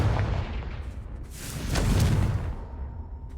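A Confringo fire spell blasts in the Hogwarts video game, a deep booming rumble with a whooshing burst that swells, peaks and then fades away.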